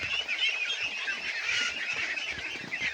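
A small flock of pet ducks quacks and honks in a busy, overlapping chorus while feeding on snails, close and continuous.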